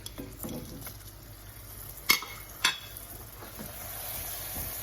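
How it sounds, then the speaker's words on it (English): Butter dropped into hot caramel in a pan: a continuous, moderately loud bubbling sizzle, broken by two sharp clinks of a utensil against the pan, with no talking. "when you start adding these other ingredients, it's going to bubble up pretty violently"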